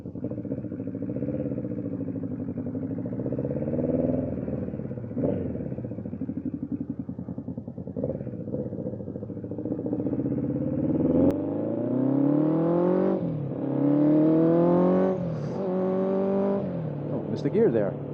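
A 1979 Honda CB750F Super Sport motorcycle engine runs steadily and loudly up close, with its tone rising and falling through several revs in the second half. A voice talks over the engine for much of the time.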